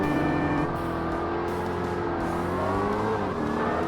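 Race car engine from the 2005 Xbox game Forza Motorsport in a Professional/Medium-Power Open event, droning and revving steadily at close range with a hint of tire noise, no talking.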